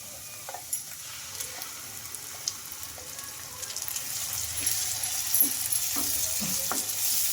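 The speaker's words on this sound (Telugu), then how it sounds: "ఈ మసాలా బాగా ఫ్రై అవ్వాలి కొంచెం మనకు ఆయిల్ అనేది పైనకి రిలీజ్ అవ్వాలండి అంతవరకు కొంచెం మంచిగా ఫ్రై చేసుకుందాం" Masala and onions frying in oil in a pan give a soft, steady sizzle with occasional light stirring scrapes, growing slightly louder toward the end; no talking.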